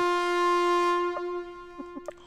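A sustained, steady horn blast from the video game LISA holds for over a second, then tapers off, followed by a few faint clicks.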